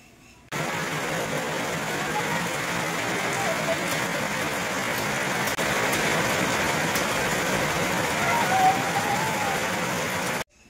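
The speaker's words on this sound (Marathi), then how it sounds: "तुम्हाला दाखवते किती पाऊस पडायला लागलाय।" Heavy monsoon rain pours steadily outdoors as a dense, continuous broadband hiss lasting about ten seconds, with no voices over it.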